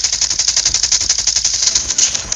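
Rapid automatic fire from a Kilo 141 rifle in the mobile shooter Call of Duty Mobile, a fast, loud, evenly spaced burst of crisp shots running almost continuously for a couple of seconds.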